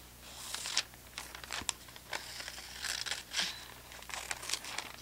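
Scissors rough-cut paper applique pattern pieces apart for press-and-peel machine applique, a close series of crisp snips and crinkling paper rustles coming in uneven bursts with short pauses.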